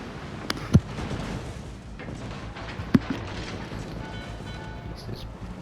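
Secondary guns of the battleship Bismarck firing in World of Warships: Legends, two sharp booming reports over a steady rumbling background, spaced a couple of seconds apart, with faint in-game clatter between.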